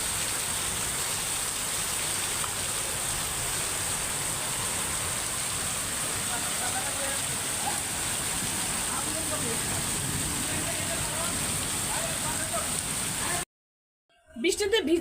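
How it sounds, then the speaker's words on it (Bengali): Heavy rain pours steadily outdoors on a street, a loud continuous hiss of drops on surfaces that fills the scene without a break before cutting off near the end, where a voice briefly begins. "অনেক জোরে বৃষ্টি আসছে।"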